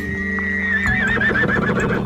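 A loud, close zebra call rises into a long whinnying bray that wavers and breaks into rapid pulsing notes, heard alone without speech.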